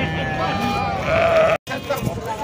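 A ram bleats with wavering, drawn-out cries at a goat and sheep livestock fair in Sumé, Paraíba, in Brazil. Crowd murmur and nearby talking can be heard under the animal calls.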